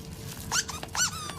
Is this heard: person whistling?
no